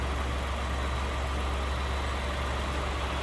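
Steady, even rumble of a 2019 Ford F-150 pickup's 3.5-liter EcoBoost V6 idling nearby, continuous and unchanging throughout, with no voices.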